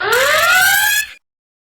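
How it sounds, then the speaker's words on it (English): A smart home security system's alarm sounds after a fire is lit near its sensor, a loud, steady electronic tone with a rising pitch sweep, lasting about a second before cutting off abruptly. "The red light flash on the app and alarm sound."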